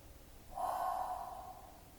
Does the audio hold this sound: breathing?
yes